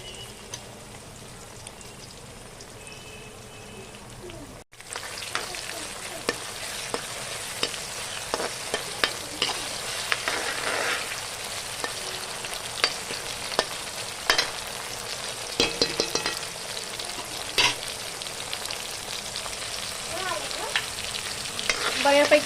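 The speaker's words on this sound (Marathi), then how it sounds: "बऱ्यापैकी टोमॅटो परतून झालेले आहे." Tomatoes sauté with ginger-garlic paste and cumin in a pan for a round pumpkin curry, giving a steady, close sizzle broken by frequent stirring scrapes and clicks.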